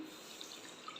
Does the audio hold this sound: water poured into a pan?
yes